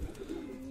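Soft, low cooing from a pigeon perched on a rooftop, a continuous rolling murmur heard nearby with no talking.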